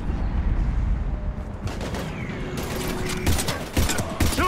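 Gunfire and explosive bursts in the Mass Effect 3 Mars battle, with sharp intermittent shots and a thudding volley growing denser in the second half over a steady low rumble.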